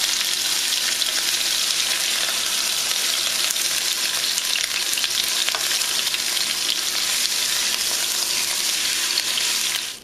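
Pork pieces seasoned with salt and pepper searing in a hot pan, a loud, dense, continuous sizzle heard up close and without pause, cutting off abruptly at the end.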